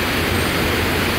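Putamitsa river in Yalta flowing beneath a small footbridge, a steady broadband rush of water, close and continuous with no pauses.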